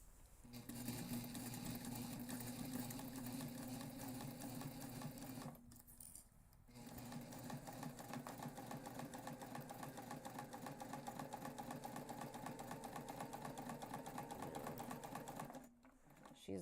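A sewing machine basts around the outer edge of a backpack, running in a steady fast mechanical whir with two brief stops before resuming, close and clear with no talk.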